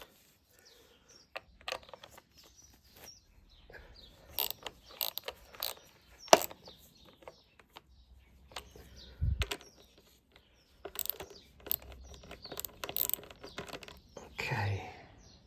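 A ratchet tightens the cooling fan bolts on a BMW K1300S motorcycle, heard as scattered bursts of close mechanical clicks with pauses between them.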